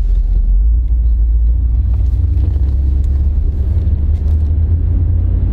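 An old Mercedes car starts off and drives away, a loud, steady low engine rumble with a constant throaty drone throughout, close by and with no talking.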